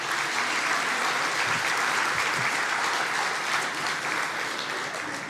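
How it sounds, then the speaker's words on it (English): Audience applause fills a conference hall at an Indigenous nurses' gathering, a dense steady clapping from many hands that holds at full strength without pause, with no talk over it. "Can I please have a round of applause?"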